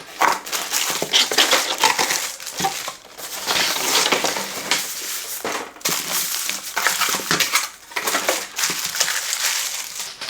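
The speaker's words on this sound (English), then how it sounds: "So let's open the box and find out more about this product" Crinkly rustling and crunching of cardboard and plastic packaging as a Silvercrest 600W blender, model SSMKH 600 A1, is unboxed, a steady close-up handling noise with brief pauses and scattered clicks.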